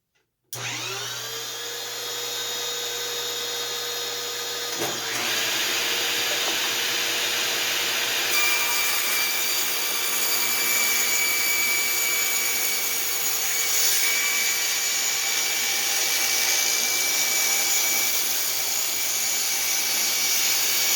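A power saw with a 1.5 horsepower motor and a sharpened blade cuts through seasoned live oak. The motor spins up to a steady whine, then the tone shifts and grows harsher as the blade bites into the hardwood, continuing for about twenty seconds without talk.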